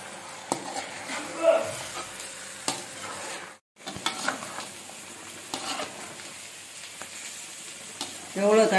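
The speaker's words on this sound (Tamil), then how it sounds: "வெங்காயம் தக்காளி இஞ்சி பூண்டு பேஸ்ட்டு உப்பு மஞ்சத்தூள் எல்லாம் போட்டிருக்கு. இதில் போட்டு நல்லா வதங்கட்டும்." Onion, tomato, ginger-garlic paste, salt and turmeric sautéing in a pan for rabbit curry, a soft sizzle with occasional scraping stirs and utensil clinks against the pan, a voice speaking faintly at moments.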